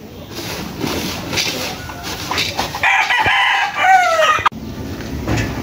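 Roosters and hens in a backyard coop of small bantam chickens, with a crow rising in the middle and clucking mixed among farmyard noise and someone talking.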